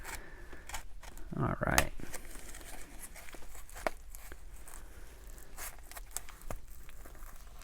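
Coin package being cut open, a short burst of snipping and crinkling plastic near the start, then quieter rustling handling under a man's brief speech.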